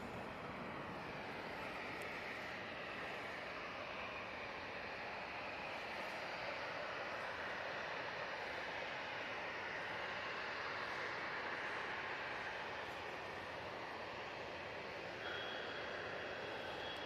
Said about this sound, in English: We have this Ryanair 737 coming towards us